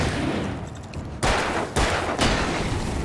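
Gunshots in the video game Alan Wake: three sharp, loud blasts in quick succession over a dense background of game noise, close and without speech.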